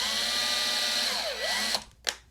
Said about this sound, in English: I'm just going to drill a little bit into each of those holes.